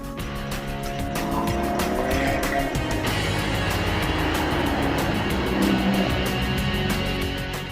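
Engine note of a 2016 Alfa Romeo 4C with an all-aluminum 1,742cc turbocharged four-cylinder, droning steadily and loudly as the car is driven, with a rising tone and no talk over it.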